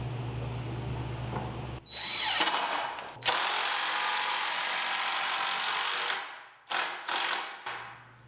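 Power drill driving a screw into the wood of a simple rolling workbench, close and loud, with whirring bursts, brief pauses and a ratcheting clutch-like rattle as the screw seats.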